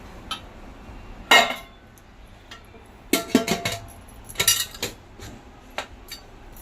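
Metal clanks and clinks in a few sharp bursts as a pressure cooker and its stand are set down and adjusted, with quiet pauses between.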